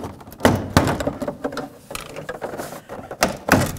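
A plastic trim tool pries the interior door panel off a Chevy S-10 door, with close, irregular plastic creaks, clicks and sharp snapping pops as the clips release, and no talking.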